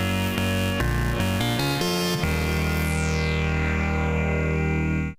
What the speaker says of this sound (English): without patching anything, you get the wave folded sine wave from VCOA going straight into here